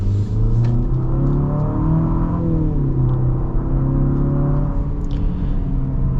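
2025 Infiniti QX60 with a turbocharged engine accelerating hard, its engine drone climbing and shifting pitch in a steady, loud, continuous pull heard from inside the car.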